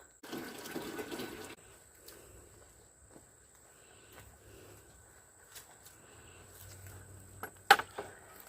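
Water pours briefly for farm goats on a warm day, a short splashing fill near the start, then quiet outdoor background with insects and faint scattered knocks.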